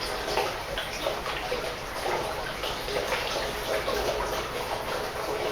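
Water pours steadily into a large container holding around 90 litres, a continuous broadband rush of splashing and gurgling that stays even and unbroken from start to finish.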